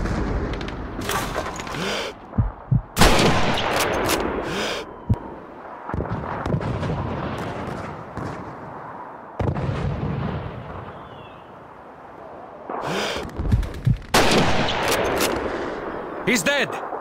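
Rifle shots, gunfire and explosions in the video game Call of Duty 2, loud sharp cracks and booming blasts in irregular bursts, with spoken voices mixed in.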